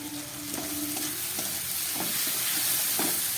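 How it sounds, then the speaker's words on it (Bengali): Fish masala with ground coriander, cumin and turmeric fries in a pan, giving a continuous sizzle with a few soft stirring scrapes over a short stretch. "আবার একটু এটাকে ভেজে নিচ্ছি ভালো করে।"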